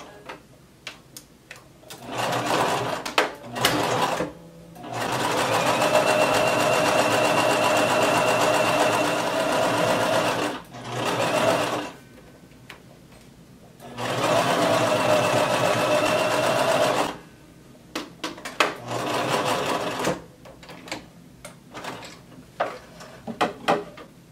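A sewing machine stitches a coat dress collar in several bursts, with two long steady runs of rapid mechanical whirring and shorter starts between them. Fabric handling and clicks fill the pauses, and there is no talk.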